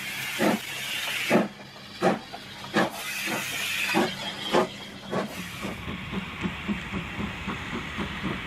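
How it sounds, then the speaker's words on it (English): A model steam troop train hurries past a model railway yard, sharp regular chuffs of steam at first, then fading into quicker, lighter rhythmic clicking of wheels as it moves on, fairly close and with no voices. "a troop train hurries past the yard"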